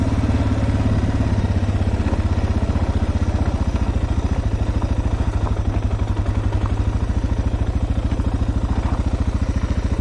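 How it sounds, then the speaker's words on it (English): A motorcycle on a steep downhill with the ignition switched off, its engine braking in gear and producing a steady, rapid mechanical clatter and pulsing thrum that runs unbroken from start to finish. "on these steep downhills, I like to kill the ignition to maximize my engine braking"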